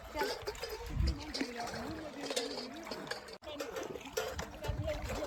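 Water splashes and trickles quietly as people wade on foot across the Hiren river along the Narmada pilgrimage route, with soft, irregular sloshing throughout.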